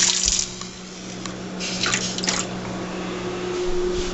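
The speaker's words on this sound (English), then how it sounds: "Just put like a little bit of water in it, not too much." Water splashing and dripping as a small amount is poured into a skillet for cooking frozen vegetables, with brief spattery bursts over a steady low kitchen hum, close and moderately loud.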